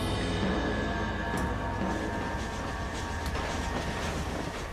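A train rolling across open country in Red Dead Redemption, a steady low rumble with faint clattering, fairly quiet and continuous with no talk.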